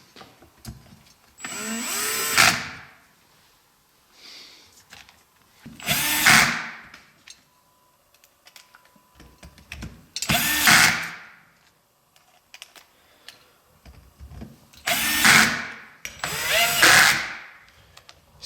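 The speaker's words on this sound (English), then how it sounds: "the noise my drill is making, for those that don't know, is just the clutch slipping" A power drill with its clutch slipping while driving screws during the build of a 1/4-scale 4x4 RC rock crawler. It gives four or five loud, separate whirring bursts, each about a second long, with quiet gaps between them and no talk.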